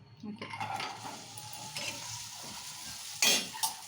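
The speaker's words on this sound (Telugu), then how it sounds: "ఇక బెండకాయలన్నీ ఇక ఇట్లా ఫ్రై చేసేసుకొని" Okra (bendakaya) frying in a pan, with a soft steady sizzle under occasional metallic scrapes of a spoon stirring and one sharper clatter near the end.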